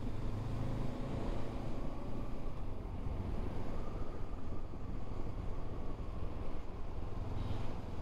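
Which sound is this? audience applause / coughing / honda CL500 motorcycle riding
honda CL500 motorcycle riding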